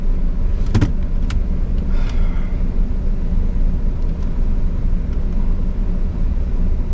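A big-turbo Ecotec V6 car makes its first nitrous pass with a loud, steady, continuous engine roar that lasts the whole stretch.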